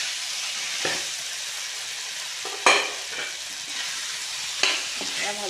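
Potatoes and drumsticks fry in a pan for an Assamese curry, a steady sizzle broken by a few sharp stirring scrapes and bursts of spattering.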